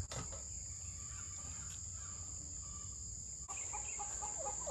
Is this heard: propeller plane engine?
no